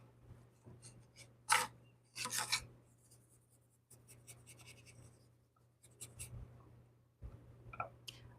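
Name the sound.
brush scrubbing paint onto wooden apple garland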